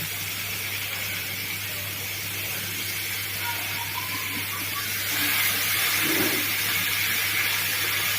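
Onions and tomatoes frying in a pan for a South Indian tomato thokku, a steady close hiss with a constant low hum underneath that swells louder toward the end.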